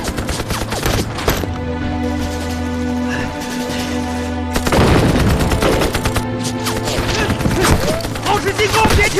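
Sustained volleys of gunfire in a Chinese war film battle, with loud rapid bursts and booming impacts layered over a droning background roar, intensifying in the second half.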